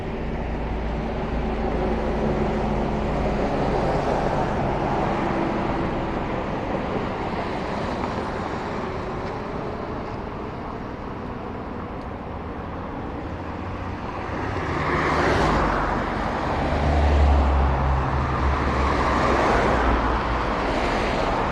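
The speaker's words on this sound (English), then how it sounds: "see if the traffic will die down a little bit" Steady roar of street traffic at a Hollywood roadside, with passing vehicles and a heavier swell of engine noise near the end, continuous and fairly loud with no talking.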